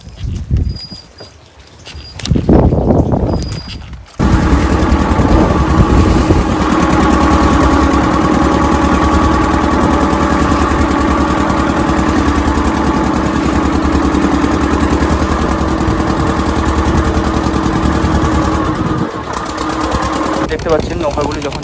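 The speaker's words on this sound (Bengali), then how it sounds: "দেখতে পাচ্ছেন নৌকাগুলি যখন যাচ্ছে সামনের দিকে" Motor of a fishing boat moving through Sundarbans waters, a steady droning mid-pitched chug that runs loud and unbroken for most of the clip after a brief quieter start, with faint voices.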